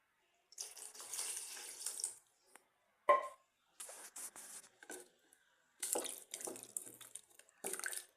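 Water pours and splashes in several short bursts with quiet gaps between them, close by, like a stream running into a pot of bottle gourd sambar.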